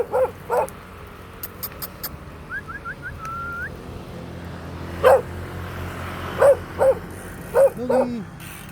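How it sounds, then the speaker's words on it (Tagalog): A dog tied up beside a road barks in short separate bursts, several loud nearby barks spaced out with quieter whimpering yips between them, over a low background rumble. "May nakataling aso rito."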